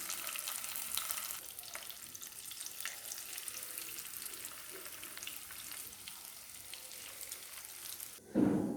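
Kattē parigela fish fry in hot oil, a steady close crackling sizzle with fine spattering throughout, ending in a brief louder clatter.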